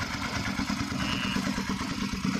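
A Suzuki SV650 motorcycle engine runs steadily at idle, a continuous low throbbing rumble with light mechanical clatter, no voices.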